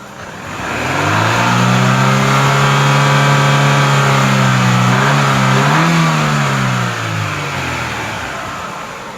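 A warmed-up Chevrolet Aveo engine with a computer fault is revved once, its note climbing to a loud, sustained drone, wavering, then slowly easing back down, with no other sounds.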